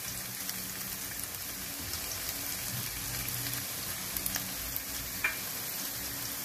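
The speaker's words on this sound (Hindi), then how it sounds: "प्याज को थोड़ा हल्का फ्राई करेंगे।" Onions fry gently in a pan over low heat, giving a constant soft rain-like sizzle with occasional faint pops and stirring scrapes.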